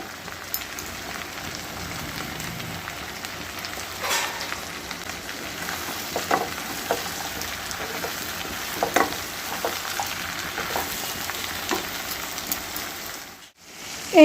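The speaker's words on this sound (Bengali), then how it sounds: "এই যে একটু ভাজা ভাজা হয়ে এসেছে আনাজগুলো" Mixed vegetables with pumpkin and snake gourd frying in a pan alongside potatoes, onion and oil potka, a continuous low sizzle broken by occasional stirring scrapes, fairly quiet and steady.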